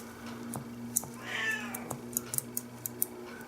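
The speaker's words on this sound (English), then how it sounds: "That's my cat." A house cat meows once, fairly near, during a workbench session, with faint clicks and a low steady electrical hum in the background.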